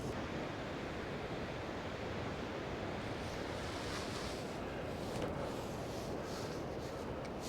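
Atlantic Ocean surf breaks on the wild, secluded coast at Hartland Quay in North Devon, a continuous low wash of waves and wind, distant and soft, with no voices.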